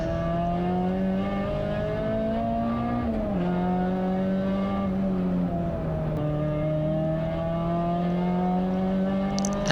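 Peugeot 206 race car lapping the Anglesey circuit during a 24-hour endurance race, its engine droning steadily and loudly up close with rising and falling revs as it shifts gears, no voices.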